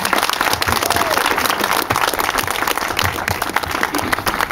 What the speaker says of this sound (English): a huge round of applause for this incredible accomplishment